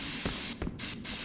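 Pepper spray being discharged in short hissing bursts, two or three quick sprays close to the microphone with a brief pause between them.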